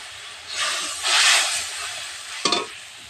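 Ground spices tipped into hot oil after capsicum and green plantain have been fried, giving a steady sizzle that swells twice and ends in a short sharp crackle, close and loud with no talk.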